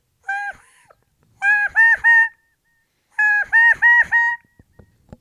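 A human voice imitates a wild turkey's kee-kee run without a call: high, clear whistled yelps in three groups, one lone note, then two quick runs of about four rising notes, loud and close.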